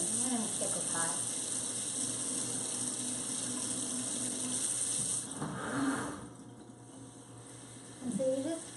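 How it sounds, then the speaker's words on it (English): Hot soapy water running from a tap into a kitchen sink, a steady close hiss that continues under a person talking, then cuts off briefly before resuming. "soak it in this position with some hot soapy water"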